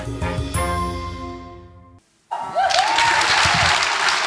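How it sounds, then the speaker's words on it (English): Audience applause at a talk on imperialism and climate change, bursting in loud and dense after a fading musical passage and a brief silence, continuing steadily to the end. "We can applaud ourselves."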